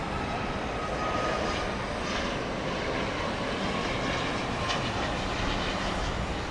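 A Southwest Airlines jet arrives at Dallas Love Field at night, its engines giving a steady, broad roar that holds through the whole stretch without a break.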